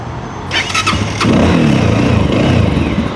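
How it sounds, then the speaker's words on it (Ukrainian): A Tekken 300 motorcycle starter cranks briefly, then the engine catches and settles into a loud, throbbing idle with a deep rumbling note from a twin exhaust, close up. "Позаду у нас роздвоєна вихлопна система. Звук, в принципі, непоганий."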